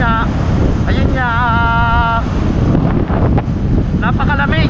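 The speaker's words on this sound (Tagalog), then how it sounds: "Nagsimoy ng hangin." Strong, steady wind roars and buffets the microphone throughout, a dense rushing noise with brief tonal sounds and faint voices poking through.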